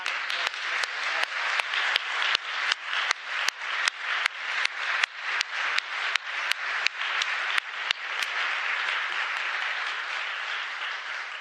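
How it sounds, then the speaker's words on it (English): An audience at a conference closing session applauds, starting with loud, evenly spaced rhythmic claps in unison that dissolve into continuous, even applause. "One more round of applause."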